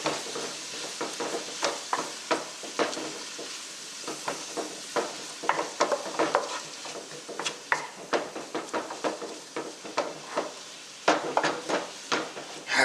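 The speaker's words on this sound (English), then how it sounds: "Just give it another mix" A spoon stirring chicken tikka curry with salt in a pan, giving repeated scraping knocks against the pan in an irregular rhythm over a soft sizzle, close and alone.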